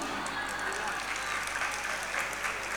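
An audience claps steadily through a Jain nun's religious discourse, a dense sustained patter with a voice continuing over it.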